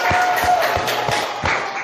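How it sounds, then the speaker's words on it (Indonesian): A classroom group claps together in a short burst of applause, dense and fairly loud, with broad rhythmic thumps running through the sound and a faint murmur of voices. "Tepuk tangan buat kita semuanya."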